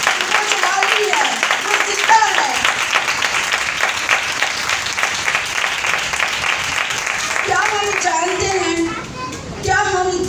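A church congregation at a Thursday night prayer meeting claps in sustained, loud applause while a voice speaks over the clapping.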